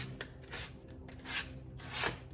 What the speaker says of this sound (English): I just got some 500 grit sandpaper, and I'm just gonna, before I wax this, I'm just gonna still just very lightly go in some places